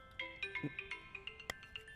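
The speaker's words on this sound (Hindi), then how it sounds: "इस समय कौन फोन कर रहा है?" A phone ringtone plays a short repeating melody of bright electronic tones, fairly quiet and alone, with one sharp click partway through.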